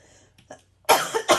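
A single harsh cough, loud and close, after a couple of faint throat noises in near silence.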